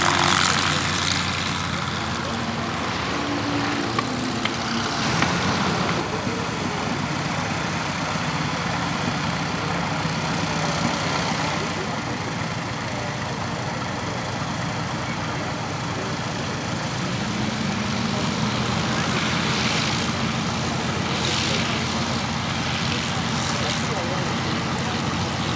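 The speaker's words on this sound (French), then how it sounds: "Ouais, c'est un avion unique, ce Boral 406." A vintage Boral 406 propeller plane with a Hispano-Suiza engine drones steadily overhead at an air show, a loud sustained engine roar with faint crowd voices mixed in.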